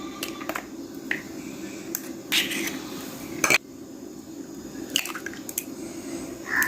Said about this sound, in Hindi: ये 2 दिन मेरे पास अंडे हैं, तो इनको तोड़ लेते हैं